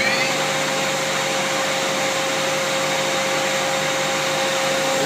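A Mazak QT-20 universal CNC lathe spindle spins at 3,000 RPM, a steady, fairly loud whirring hum with a sustained high whine and no change in pitch throughout.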